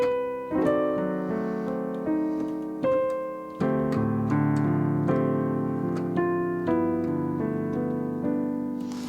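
Solo piano plays the opening line of a song as gentle sustained chords with a melody on top, close and alone at moderate volume.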